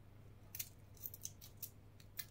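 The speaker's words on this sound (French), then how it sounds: "on va couper nos gousses d'ail" Knife cutting garlic cloves for a lasagne prepared with a Monsieur Cuisine Smart kitchen machine: a handful of short, crisp cutting clicks spaced irregularly, faint and close, over a low steady hum.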